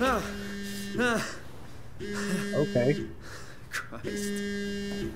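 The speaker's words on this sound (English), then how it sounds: "Is that my phone? That's my phone." Phone buzzing in the video game SOMA: three long, steady vibrating buzzes with short gaps between them, fairly loud, with a voice speaking briefly between the buzzes.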